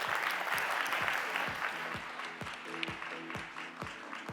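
Audience applause at a tech pitch competition in Tokyo, a steady dense clapping from a full room that continues throughout without any talk on top.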